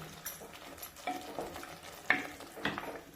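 Coriander, chili and turmeric powders fry in oil for a dry fish curry, a faint, quiet sizzle with several soft scraping stirs of a spoon in the pan, and no speech.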